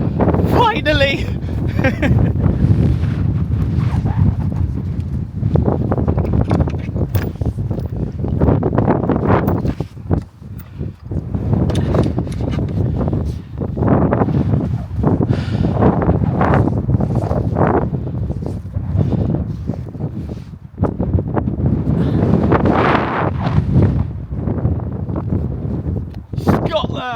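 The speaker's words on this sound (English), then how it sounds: "The wind's picking up." Strong wind buffets the microphone outdoors on a walk near the Scottish border, a constant roaring rumble that swells and dips for the whole stretch, with someone talking through it.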